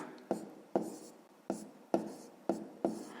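Numbers are written by hand during a fifth-grade maths exercise: six short, scratchy strokes land in a steady rhythm, close and distinct, with no talking.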